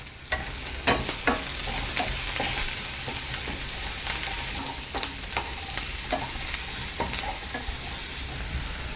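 Cooked rice being stirred with paruppu podi and onion in a pan gives a soft frying hiss, broken by frequent scraping and tapping from the spoon against the pan, close and steady throughout.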